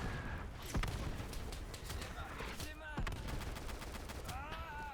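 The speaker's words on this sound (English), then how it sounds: "are really pinning us down. Right. Bloody artillery." Artillery fire booms and rumbles in the World War II shooter Easy Red 2 during a French campaign battle: several sharp distant blasts and crackling gunfire land over continuous battlefield noise, with a person speaking underneath.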